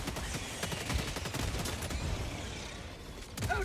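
Rapid gunfire bursts from a Helldivers 2 battle on Helldiver difficulty 9, a solo turret build shooting at enemy targets: dense, continuous volleys of shots with loud cracks throughout, no talking.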